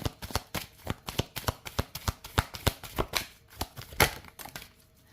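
Illustrated oracle cards being shuffled by hand, a quick series of crisp riffling slaps in an irregular rhythm, close and clear with nothing else around them.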